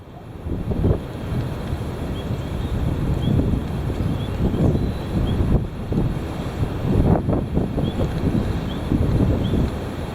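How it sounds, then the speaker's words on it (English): Strong gusty wind roars against the microphone, buffeting continuously with louder bursts throughout. "Sure is very windy, really windy out. And the wind is blowing hard."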